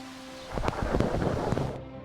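A thunderstorm rumbles with a low rolling crack of thunder over steady rain hiss, loud and full, with no voices.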